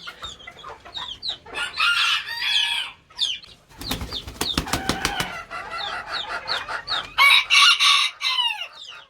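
Serama bantams cluck and chirp in bursts while a rooster crows clearly partway through, with some wing flapping, close and fairly loud, no talk.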